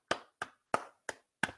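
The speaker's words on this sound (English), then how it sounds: "Round of applause for Harinita." A small audience at a speakers' forum claps in five sharp, evenly spaced single claps, each crisp and close with a quick decay, the sound thin and sparse rather than a full ovation.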